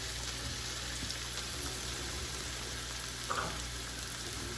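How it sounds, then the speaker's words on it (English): Mushrooms frying in a pan over a medium-low flame for a tortilla casserole, a steady broad sizzle and hiss with a faint low hum and one brief stir near the end, no voices. "Now I'm gonna add my mushrooms"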